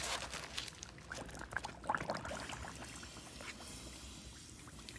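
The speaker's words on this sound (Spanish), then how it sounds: "ya tengo el agua caliente para poner a hidratar las hojas" Hot water is poured over dried corn husks in a kitchen, softening them for tamales: a faint, uneven splashing and trickling with small liquid bubbling, quiet and close.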